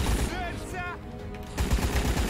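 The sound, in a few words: gunfire in Rambo: The Video Game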